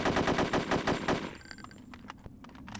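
Rapid automatic assault rifle fire in the video game Hitman: Codename 47, a loud burst of evenly spaced shots for over a second, followed by scattered quieter impacts and clicks.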